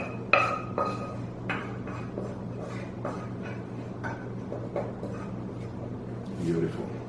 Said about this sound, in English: And I'll basically put in these beautiful green onion and garlic.